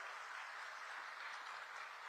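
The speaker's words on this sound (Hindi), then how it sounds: "जोर से ताली बजाओ अर्जुन मुंडा जी के लिए भाई" Crowd applause at a large outdoor political rally at Kachahari Maidan in Khunti, a broad steady wash of clapping heard from some distance, fairly faint and continuous without any voices.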